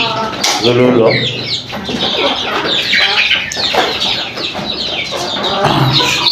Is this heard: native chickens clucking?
yes